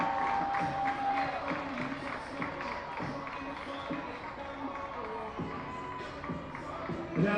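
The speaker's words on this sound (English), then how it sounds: "How about a round of applause for all of our Mifflin youth baseball players?" An outdoor crowd at a youth baseball game applauding the Mifflin youth baseball players; scattered, moderate clapping and crowd murmur carry on steadily, with a few voices mixed in.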